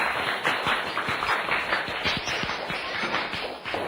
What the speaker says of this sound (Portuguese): Uma salva de palmas para o Anilson e para a Laís.